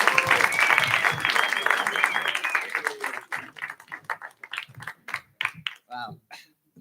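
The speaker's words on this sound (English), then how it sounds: "Let's give a huge round of applause" Clapping from a church congregation fills the first few seconds, then thins into scattered individual claps before fading out.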